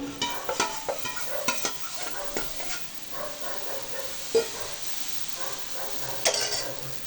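Wheat dosa batter sizzling on a hot pan, with a steady soft hiss and scattered clicks and scrapes of a utensil, close and moderately loud, with no talking.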